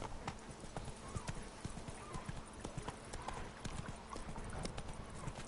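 Horse hooves clip-clopping at a steady trot in The Witcher 3: Blood and Wine, a continuous rhythmic patter of hoofbeats over game ambience, heard faintly in the background.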